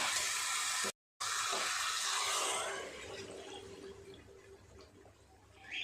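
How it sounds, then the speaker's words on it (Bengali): Hot water poured into a pan of chicken and potato curry, a steady broadband pouring rush that runs for a few seconds, briefly cut out, then settles into softer bubbling and trickling with no talk. "দিয়ে দেব গরম জল।"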